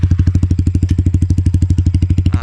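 A Yamaha MT-15 motorcycle with an MSH full-system exhaust revs hard and close while accelerating, its exhaust firing a rapid, steady pulsing rumble with a rising crackle toward the end.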